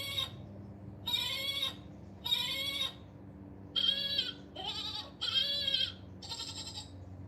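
A toy emergency goat from a holiday stocking plays a series of seven loud, electronic-sounding bleats in short bursts with brief pauses, over a quiet indoor background.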